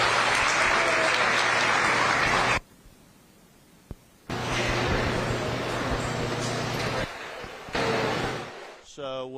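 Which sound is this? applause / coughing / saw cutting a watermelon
applause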